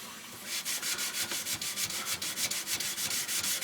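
Sandpaper rubbed by hand along the plunge area of a knife blade, a close, steady scratching with rhythmic back-and-forth strokes repeating about every quarter second, alone without talk.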